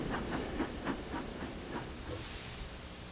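A cartoon steam engine named Thomas chuffs in with a steady run of rhythmic steam puffs over a constant hiss, ending in a brighter release of hissing steam.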